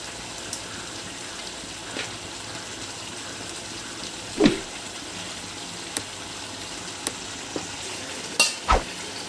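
Chicken fry being stirred in a pan at home, a low wet simmer with a few sharp scrapes and clacks of the spoon scattered across the clip, one louder knock near the middle and a pair near the end.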